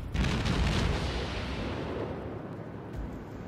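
Naval guns fire in the World of Warships video game, a heavy booming blast at the start followed by a long rumbling decay, loud and close with no talking.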